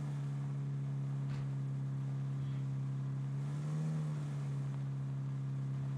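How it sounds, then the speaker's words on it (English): A loud car drives in PUBG on the Miramar map, its engine a steady low drone that holds throughout and swells briefly near the end, with no talk over it. "sneak with this super loud car"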